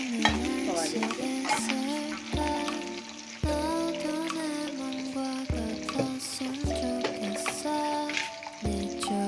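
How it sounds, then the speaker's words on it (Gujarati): Chopped onions fry in a pan until light brown, sizzling steadily while a utensil stirs and scrapes at intervals. Tonal background sound runs continuously underneath. "ઓનિયનને આપણે લાઇટ બ્રાઉનિશ કલર થાય ત્યાં સુધી થવા દઈશું।"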